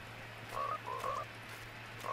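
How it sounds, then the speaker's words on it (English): A frog in the Fortnite video game croaks in a few short, faint repeated calls over a steady low hum of game ambience. "Wait, is that a frog? Oh, it's a frog."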